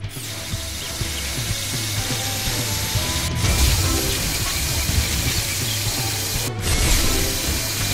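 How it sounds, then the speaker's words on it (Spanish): A drill whirs and grinds steadily for several seconds in the PAW Patrol movie video game Call of Adventure City, a continuous mechanical buzz layered over background game music. "mueve esto para colocar el taladro"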